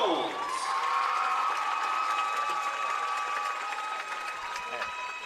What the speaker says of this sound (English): Let's have a round of applause for Adeline Jones